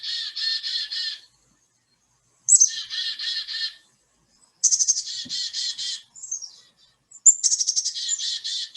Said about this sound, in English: We have a lot of chickadees, and we just love that sound.